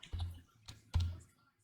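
A few quiet, sharp clicks and taps on a computer keyboard and mouse, spaced irregularly over a second and a half, with no voices.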